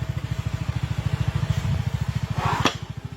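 A motorcycle engine runs steadily close by, its even, rapid low thumping pulse continuing throughout, with a brief sharp clatter near the end.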